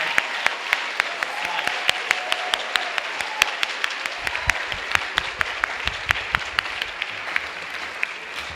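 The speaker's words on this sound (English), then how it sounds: "Please give a round of applause to the Strongsville Instrumental Music Boosters" An audience at a spring school orchestra concert applauds the instrumental music boosters, with dense steady clapping and crisp individual claps standing out throughout.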